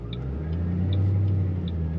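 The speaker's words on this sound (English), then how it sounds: "you can kind of hear a little bit of difference in the engine sound" A supercharged 2006 Ford Mustang Saleen S281 coupe with a manual transmission runs with a deep, steady engine rumble, heard up close for two seconds with faint high chirps above it.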